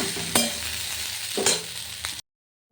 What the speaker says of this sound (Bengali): দিয়ে দিয়েছি একটু জিরে ফোড়ন শুকনো লঙ্কাও দিয়ে দিয়েছি